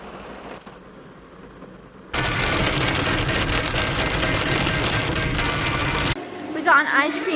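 Rain drums on a car heard from inside the cabin, starting quiet, suddenly swelling into a loud, dense patter for several seconds, then dropping back down.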